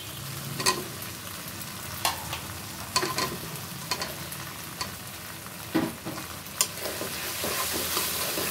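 Cut potatoes and pointed gourd hit hot oil and cooked spices in a pan, sparking a continuous frying hiss with intermittent clanks and scrapes of a spoon stirring, building slightly louder toward the end.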